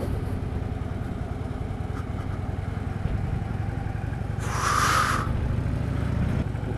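A 2015 Harley-Davidson Street Glide rolling slowly around a parking lot, its steady low engine rumble continuous throughout, with a brief hissing burst partway through.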